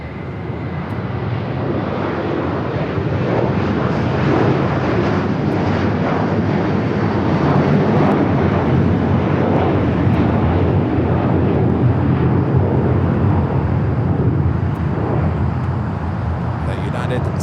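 Loud, sustained roar of an airliner's jet engines during takeoff at Los Angeles International Airport, broadband and steady for the whole stretch, with faint radio talk beneath.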